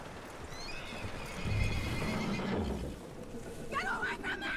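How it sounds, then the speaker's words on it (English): A horse in the Western video game Red Dead Redemption 2 snorts and whinnies near the end, with clip-clopping hooves and game ambience running underneath throughout at moderate volume. "Get that horse hitched."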